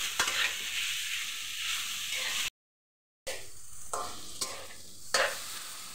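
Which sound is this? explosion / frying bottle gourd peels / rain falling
frying bottle gourd peels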